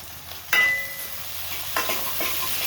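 Grated ginger and chopped green chillies fry in a pan with a soft steady sizzle, punctuated by two sharp metallic clinks of a utensil, one ringing briefly.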